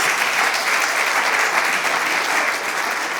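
An audience at a health awareness and screening workshop gives a sustained round of applause, a dense, even wash of clapping that holds steady throughout without voices over it.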